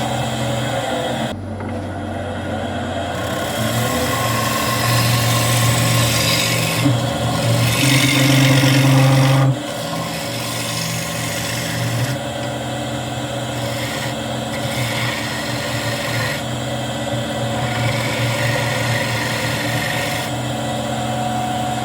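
Sharpening a woodworking gouge used on a black walnut cookie jar gives a steady, close rasping and rubbing grind that runs for about twenty seconds, with a louder, denser stretch partway through and no talk over it.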